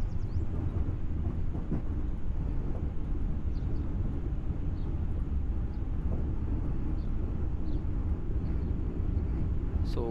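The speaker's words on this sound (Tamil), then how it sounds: "ஸோ ஒரு ட்ரெயின் கிராஸ் ஆகிருக்கு இந்த" A train passes in the Train Simulator (RailWorks) game on a Secunderabad–Warangal run, a steady low rumble with faint rattling that carries evenly throughout.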